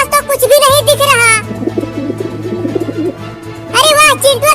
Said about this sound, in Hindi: कबूतर की आवाज आ रही है।